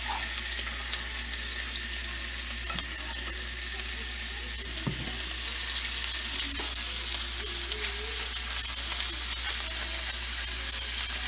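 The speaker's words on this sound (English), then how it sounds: "And I'll baste this side a little bit more." A pastured steak sizzles loudly and continuously in a hot pan while being basted, a dense, unbroken frying hiss with faint scraping movements underneath and no talking.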